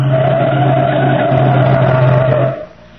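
A car skids hard as it is forced to the curb, its tires squealing in a loud, steady screech over the engine for about two and a half seconds before cutting off abruptly.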